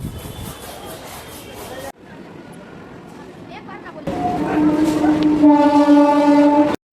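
A train pulls into Belgharia station, its rumble and rattle growing louder and closer over a few seconds and ending in a sustained horn-like tone, with people's voices in the background.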